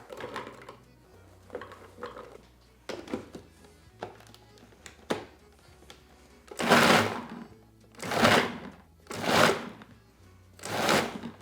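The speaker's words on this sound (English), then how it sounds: "Next, put these in the food processor." Food processor chopping roughly cut figs for Sicilian fig cookies, starting with irregular clattering and choppy whirring, then ending in four loud, even pulses of the motor.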